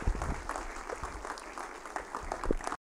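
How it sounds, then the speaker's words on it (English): Audience applause at a speaking event, dense clapping from a room full of people that stays steady and then cuts off abruptly. "Let's give a huge round of applause to Ron West."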